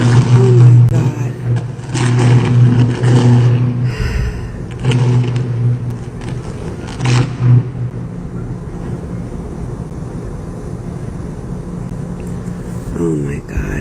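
A car's engine roars and revs as it rams into a gas station, a loud continuous mechanical drone with rising and falling surges, up close and sustained throughout.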